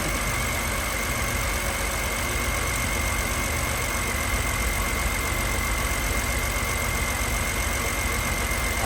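2006 BMW 325i engine idling with a misfiring coil, a steady close running drone with faint irregular knocking under a constant hum, no voices.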